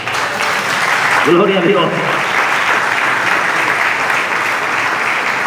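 Church congregation applauding during a sermon, a steady broadband clatter of clapping that fills the whole stretch, with a brief spoken exclamation near the start.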